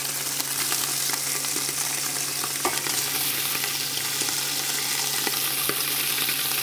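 Pork trim frying in hot vegetable oil in a pan, a steady close sizzle with fat spitting and popping in sharp crackles throughout, no voices.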